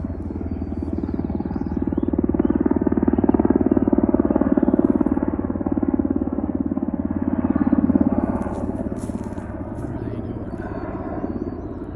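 A helicopter passes over Alaskan woodland, its low, steady rotor drone swelling gradually and holding loud before easing off, with faint scattered background noises near the end.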